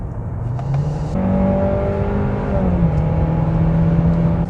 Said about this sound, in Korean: 속도를 좀 올리니까 엔진 소리가 좀 제법 살아나죠